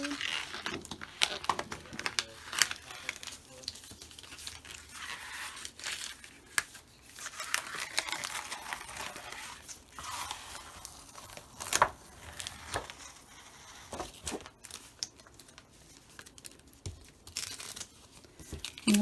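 Fabric being slowly peeled off a Brother ScanNCut CM350 cutting mat, a soft ripping and crinkling that keeps going in uneven bursts and stays close and fairly quiet, with no speech over it.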